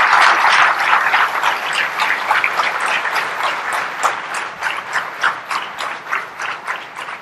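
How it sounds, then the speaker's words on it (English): Audience applauding Sudha Murthy at an onstage conversation event, loud sustained clapping from a large crowd that gradually thins into looser, separate claps toward the end. "Please give a big round of applause, sir"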